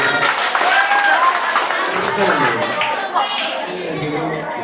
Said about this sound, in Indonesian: Benar, tepuk tangan ini.